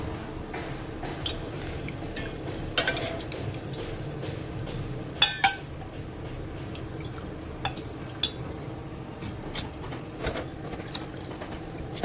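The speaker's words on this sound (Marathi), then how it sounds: "आता ह्यातलं आळणी रस्सा मी वेगळा करून घेते" Ladle scooping plain mutton broth out of a cooking pot into a separate pot, soft liquid swishing with scattered metallic clinks and scrapes against the vessels, close and fairly quiet.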